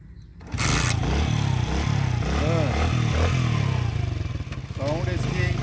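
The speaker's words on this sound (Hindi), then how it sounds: "साउंड इसकी तब्दीली के बाद ऐसे लगता है जैसे स्पोर्ट्स बाइक की है" A 2022 Honda CD 70 motorcycle with changed rings, piston and engine runs steadily with a throaty, sporty exhaust note close by, while someone talks over it.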